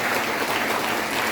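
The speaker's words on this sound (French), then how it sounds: "Applaudissons pour le Seigneur" A church congregation at a closing Sunday Mass applauds for the Lord. The clapping is brief but loud and dense, a continuous wash of many hands with no gaps.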